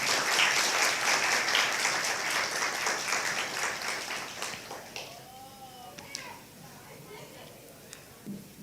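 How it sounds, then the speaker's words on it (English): Applause for facilitators at a Leadership for Change graduation ceremony: a crowd claps loudly and steadily, then the clapping thins out and fades to scattered taps. "Let's clap for our facilitators for the good work."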